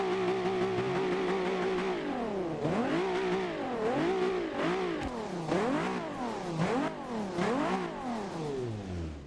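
A 1000-horsepower Nissan GT-R R35 with turbos in Forza Horizon 2 revs repeatedly, the engine pitch sweeping up and dropping back in a rhythmic series of loud, close bursts before winding down at the end.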